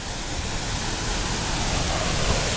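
The Tanjung Asap waterfall in Palakka village pours down into a two-metre-deep pool, giving a steady, close, broadband rush of falling water with no voices.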